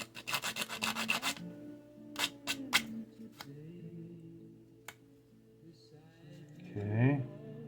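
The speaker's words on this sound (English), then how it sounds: "I'm going to sand this" Quick bursts of rough scraping strokes sanding a rough spot on a plastic part of a Tamiya 1/35 A34 Comet tank model kit, a rapid run then a few separate rubs, close and fairly quiet, with handling clicks in between.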